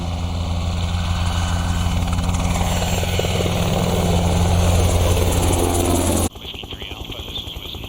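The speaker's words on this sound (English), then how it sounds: "lan Beck has been flying for 18 years and is a test pilot on one of the most successful military helicopters ever made, the Black Hawk." A Black Hawk military helicopter roars loudly close by with a steady thumping rotor drone, then cuts abruptly to a quieter cabin hum with voices.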